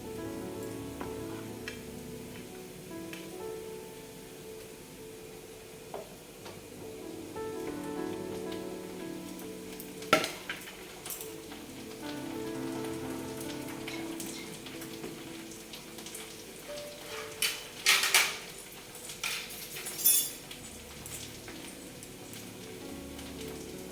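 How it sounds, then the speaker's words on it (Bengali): Ginger, garlic and tomato sautéing in a pan for chicken kosha, a soft continuous sizzle with occasional clinks and scrapes of a spatula, fairly quiet and without talking. "আদা রসুন আর টমেটো দিয়ে একটুখানি কষিয়ে নিই"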